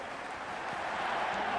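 Simulated cricket stadium crowd from a Pakistan vs New Zealand T20 match in Cricket 26, a steady broad roar of distant spectators swelling slightly louder toward the end.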